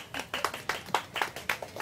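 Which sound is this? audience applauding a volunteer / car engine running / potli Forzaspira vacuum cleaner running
audience applauding a volunteer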